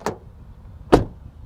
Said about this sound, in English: Door open and close from the outside